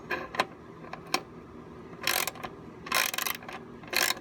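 A ratchet wrench tightens a bolt on a Project Failblazer build: a few isolated clicks, then three close, loud bursts of rapid ratcheting clatter with short pauses between them.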